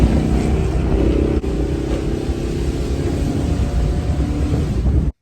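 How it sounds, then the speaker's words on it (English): A Chevy box-body car with a 600-horsepower LS swap engine runs loud and steady, a thick, rumbling drone that holds for about five seconds before cutting off abruptly. "I want your LS swap to run like this."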